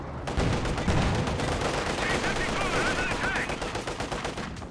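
An artillery barrage and bundle grenade in Company of Heroes 2, a World War II strategy game: dense, continuous rattling gunfire and explosions at a steady loud level, with brief higher whistling sounds in the middle.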